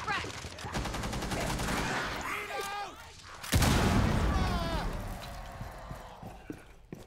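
A grenade blast erupts in a zombie-outbreak video game, a sudden loud burst followed by rattling gunfire, with someone talking over the shooting before and after.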